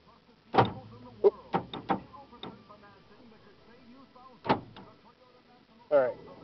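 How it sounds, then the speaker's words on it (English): Power door locks on a car actuating, a series of sharp mechanical clunks and clicks, several close together then two more after a pause, near the microphone with no talk over them. "Here you heard the doors lock and unlock."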